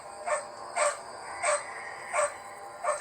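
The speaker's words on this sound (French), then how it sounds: "Les chiennes n'arrêtaient pas d'aboyer." Dogs at home bark repeatedly in a steady rhythm, about five sharp barks spaced evenly, moderately close, with faint background noise between them.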